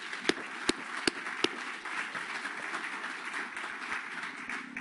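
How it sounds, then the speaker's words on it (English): Conference audience applauds the organizing committee, a few sharp close claps up front followed by a steady wash of scattered clapping across the room. "please join me in giving the committee a round of applause for a job well done."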